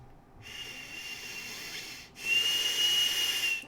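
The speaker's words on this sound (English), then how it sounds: "I'm sure some folks have probably noticed that whistling sound." Two breathy, high-pitched whistling hisses from a person's nose caused by sinuses, air forced through a narrow nasal passage, the second louder than the first, close and quiet.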